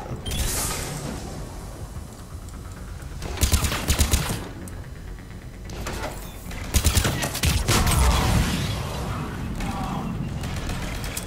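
Bursts of automatic turret gunfire in the video game Mass Effect 3, several loud rapid volleys separated by pauses, mixed with mechanical clanks and rumbling battle noise.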